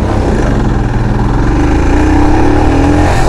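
A Royal Enfield Himalayan BS6 motorcycle engine runs loud and steady nearby, a throbbing mid-pitched thrum that rises slightly as it revs, with no voices.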